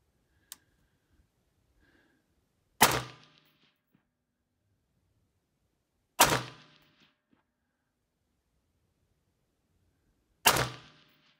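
Three loud gunshots ring out during night target shooting, evenly spaced a few seconds apart, each a sharp crack with a short decaying tail, plus a faint click and quiet pauses between.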